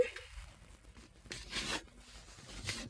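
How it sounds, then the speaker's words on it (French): Adhesive backing film peeled off scrapbooking paper in a few short, quiet tearing rips, close up, with soft handling rustles between them. "maintenant j'enlève l'opercule"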